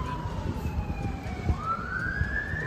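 A police car siren wails from a distance at an amusement park, rising and falling over steady crowd and ride noise.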